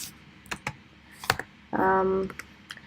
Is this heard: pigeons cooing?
no